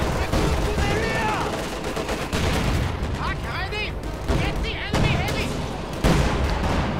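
Mortar blasts and gunfire in the strategy game Company of Heroes 2 on the Eastern Front, a dense continuous barrage of rifle and machine-gun fire with booming impacts, loud throughout, with voices talking over the battle.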